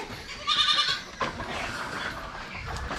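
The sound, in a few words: goats bleating on a goat farm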